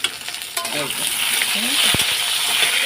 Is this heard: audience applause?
no